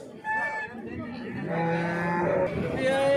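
A cow moos at an outdoor cattle market in Chintamani, with drawn-out low calls running through most of the clip over faint crowd chatter.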